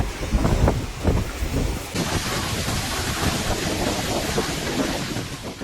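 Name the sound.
waves crashing against coastal cliffs in typhoon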